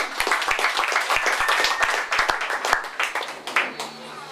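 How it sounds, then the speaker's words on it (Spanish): Church congregation at a Sunday service applauding, a steady scattered patter of many hands clapping at moderate distance, with voices and background sound mixed in. "Denle un aplauso al Señor y póngase de pie"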